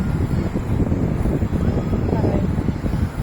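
Strong wind at the seaside buffets the microphone with loud, low rumbling gusts throughout, steady and close.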